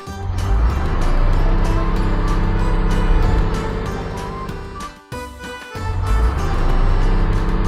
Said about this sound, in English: green garbage truck